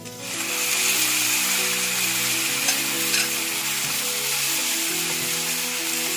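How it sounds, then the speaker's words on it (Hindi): Vegetables with soy sauce stir-fry in a pan, giving a steady, loud sizzle and crackle that runs without a break, with faint stirring scrapes underneath and no voices. "अब इसको मैं 2 मिनट के लिए स्टिर फ्राई कर दूँगा"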